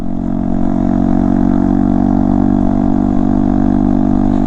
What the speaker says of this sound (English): pick you up an AR exhaust for the Honda Grom